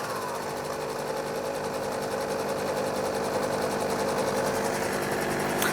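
The motor of a Sherline 5000 mill runs continuously, a steady whirring hum with a fast regular pulse, its pitch shifting slightly as the speed is adjusted.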